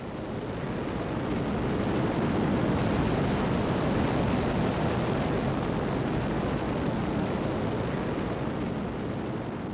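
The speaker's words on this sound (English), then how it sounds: "A volcano erupted, melting the ice at the bottom of the glacier, creating a violent explosion of steam and ash." A volcano erupting beneath a glacier, blasting out steam and ash, gives off a loud, steady, roaring rumble that never lets up, dense and powerful throughout with no distinct separate blasts.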